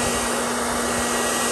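A heat blower runs steadily at full power to dry fresh paint on drilled and grooved rear brake discs of a Jaguar XJR X350, a loud constant whooshing drone heard up close with no break.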